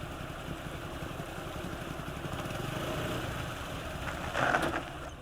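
A stopped motorcycle idles with a steady, fairly quiet low rumble that holds even throughout, swelling slightly near the end.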